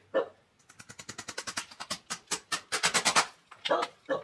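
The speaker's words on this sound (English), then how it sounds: "My ferocious guard dog over there barking at some chickens." A dog barks rapidly and repeatedly at chickens in long bursts, loud and fairly close, with short pauses between volleys.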